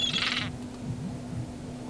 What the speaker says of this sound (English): I think that bird will peck my hand